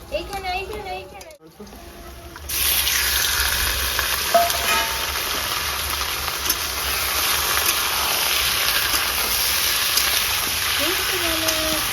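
Whole garlic cloves hit hot oil in a pan for a rustic village-style chicken curry, bursting into a loud, steady sizzle after a quiet start with children's voices and talk, the frying continuing strongly to the end.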